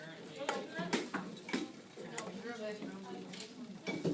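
Strong pepper being mixed in a bowl in a home kitchen, with a few close scraping and clinking taps of utensil against the dish, brief and irregular, while people talk over it.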